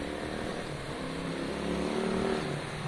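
A Honda CB200 motorcycle engine running steadily at idle, a loud, continuous low rumble close by with no talk.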